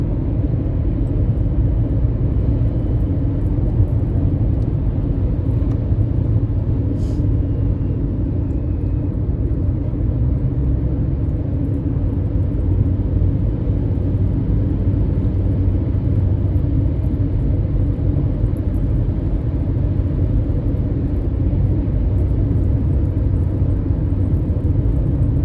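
Steady road traffic rumble heard from inside a vehicle driving through Phoenix, a continuous low engine and tire drone with no breaks and no voices.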